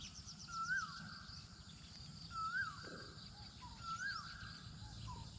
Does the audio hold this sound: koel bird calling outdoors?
yes